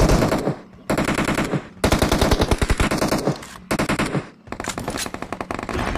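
Rapid automatic gunfire rattles in loud, sustained bursts during an online battle-royale shooter match. Several bursts are separated by brief gaps, and no one talks over them.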